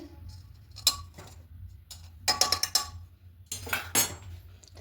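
A metal spoon clinks against a pot while boiled potatoes are lifted out after pressure cooking for a chicken chana masala, giving a few sharp clinks and scrapes in bursts, close and moderately loud, with no talk.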